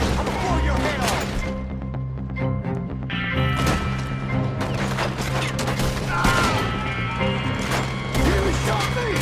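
Gunfire in Red Dead Redemption 2, repeated loud shots and crashing impacts in a chaotic firefight, with shouting voices mixed in throughout.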